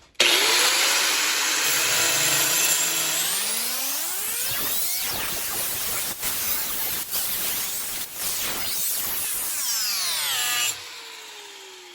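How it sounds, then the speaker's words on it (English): A handheld grinder cuts through a steel knife blank, its motor whining up to a loud, steady screaming grind that shifts in pitch as the disc bites, then winds down near the end. No voices. "I'm going to use this grinder just as another option and show how easy it is to cut through the steel"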